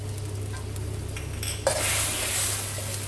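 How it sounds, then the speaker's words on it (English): A spatula stirs crispy pork basil stir-fry in a hot pan after water, soy sauces and oyster sauce go in, with steady sizzling and a sudden hiss that swells midway, close and alone without talk. "Stir everything well."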